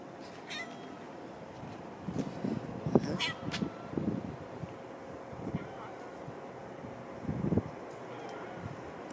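A cat outdoors meows a few times in short, scattered calls over light wind and background noise, while someone talks intermittently nearby.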